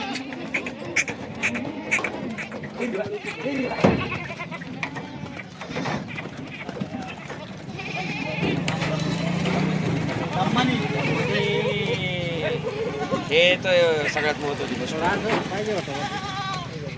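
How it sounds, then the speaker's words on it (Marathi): Kathewadi goats bleat repeatedly among a herd being sold, with hooves clattering and shuffling nearby while someone talks over the animals. "हे बघा तोलावरच्या शेळ्या."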